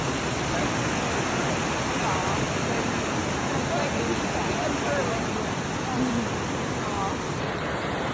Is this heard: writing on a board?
no